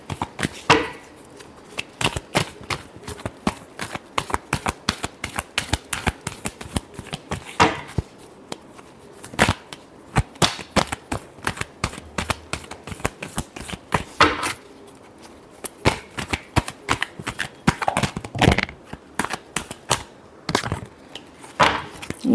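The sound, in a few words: tarot cards being shuffled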